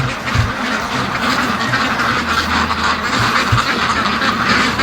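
Muscovy ducks approach in a flock, giving repeated soft, low quacks and honks over a steady outdoor background, fairly close, with no speech.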